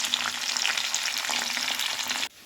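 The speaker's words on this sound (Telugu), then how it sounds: "అందులోనే క్లీన్ చేసుకున్న రొయ్యలు వేసి ఫ్రై చేసుకోవాలి" Cleaned prawns frying in oil in a kadai for an Andhra gongura curry, a loud steady sizzle that runs without a break and then drops off suddenly near the end.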